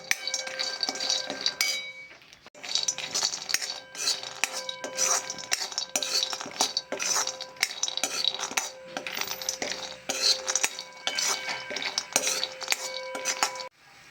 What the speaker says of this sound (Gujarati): ડ્રાયફ્રૂટ શેકી દઈશું પહેલાં